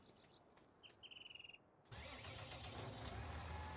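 A tractor engine in Farming Simulator on PS4 cranks with a few rapid starter chirps, then catches and settles into a loud, steady running rumble.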